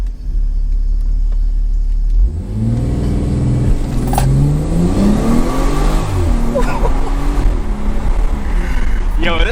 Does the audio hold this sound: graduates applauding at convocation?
no